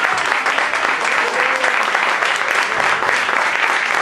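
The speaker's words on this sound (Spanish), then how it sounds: "Un aplauso para mi papá que me está presente acompañándome." Audience applause fills a live show, dense continuous clapping throughout, fairly loud and close, with a little crowd noise mixed in.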